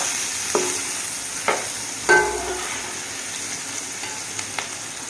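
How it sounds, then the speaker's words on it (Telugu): A cup of cashew nuts frying in a pan for vegetable biryani, a steady close sizzle broken by a few sharp knocks and scrapes of the stirring spoon. "ఇందులో ఒక కప్పు జీడిపప్పు వేయాలి ఇవన్నీ బాగా వేసుకోవాలండి"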